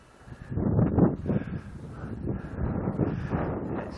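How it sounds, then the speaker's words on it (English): Wind gusts buffet the microphone on an open hilltop pasture, with rough bursts of rumble that swell and ease over a few seconds. "It's a bit windy up here, so sound quality will dip."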